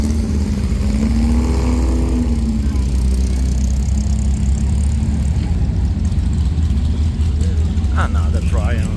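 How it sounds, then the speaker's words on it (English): Vintage cars rolling past at the 1000 Miglia race in Italy, a continuous loud engine drone with rising revs as cars pass close by, heard with a crowd's background noise and occasional talk. "These cars are coming by."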